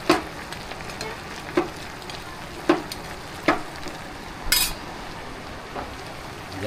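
Adobo sizzles in a pan with a steady hiss of frying, broken by a few light clinks of a utensil against the pan.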